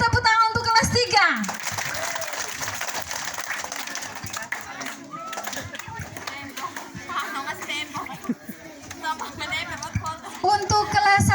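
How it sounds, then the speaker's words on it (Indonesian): A school class of children bursts into sustained applause and clapping, loud and dense for most of the stretch, with excited chatter mixed in and an adult voice speaking briefly at the start and end. "Beri tepuk tangan untuk kelas 3."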